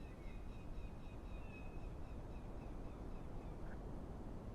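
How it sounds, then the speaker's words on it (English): Birds chirping in Microsoft Flight Simulator 2024 at the Grand Canyon, faint repeated high calls and a short warble over a quiet, steady outdoor ambience, distant and soft, no talk. "Hear a bunch of birds and stuff."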